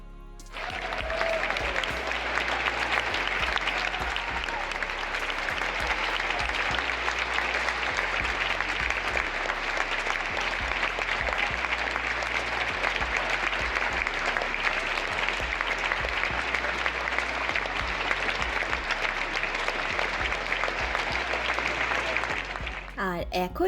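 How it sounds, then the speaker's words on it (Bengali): Audience applause at the end of a Western music concert in a hall, a dense, steady roar of many clapping hands that goes on without a break for over twenty seconds before ending abruptly. "এই অনুষ্ঠানের শেষে সকল দর্শকদের করতালির শব্দটা শুনুন শুধু"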